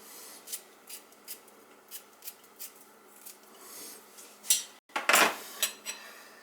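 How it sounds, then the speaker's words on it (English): Green pepper and celery being cut up for a crockpot dish, giving a steady run of short, crisp knife taps on a board, followed by a louder clattering burst near the end, close by with no talking. "Green pepper and celery. Oh, I gotta cut that up."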